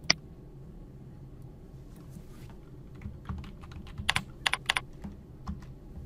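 Keys clatter on a computer keyboard as a search is typed, a quiet run of light taps swelling into a brisk cluster of sharper clicks near the end, with no talking.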